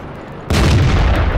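In World of Tanks, a tank gun fires one sudden loud blast halfway through. The boom is followed by a dense, rumbling roar that carries on to the end.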